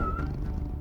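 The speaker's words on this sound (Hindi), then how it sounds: "ये बेघर बिल्ली है।" A cartoon homeless stray cat gives one short meow, close and fairly loud, with a steady tone that slides slightly, heard alone without speech.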